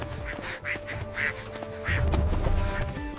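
A duck quacks several times in quick bursts, fairly close and clear, then a rougher, noisier stretch follows with a few more calls.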